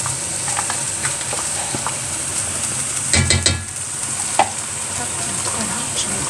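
Cream is stirred into a pot of chicken curry that sizzles and fries steadily close by, with a brief burst of scraping and stirring partway through and no talk.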